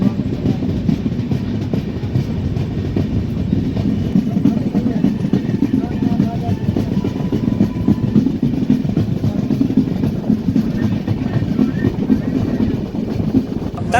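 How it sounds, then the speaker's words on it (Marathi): The Dikshabhumi Express runs at speed past Chudawa station, with a steady rumbling roar and rhythmic clatter of wheels heard from inside the carriage, constant and unbroken throughout. "सध्या आपली गाडी चुडावा स्टेशन स्किप करत आहे"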